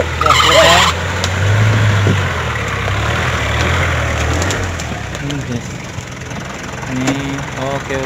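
A car engine hums and idles steadily at close range, with a brief high squeal at the start and occasional voices over the drone.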